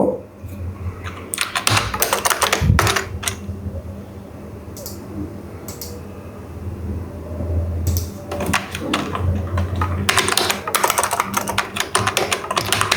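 Someone types on a computer keyboard while writing a date in MS Word. Close, crisp key clicks come in bursts with pauses between them, and a few heavier thumps break in near the start.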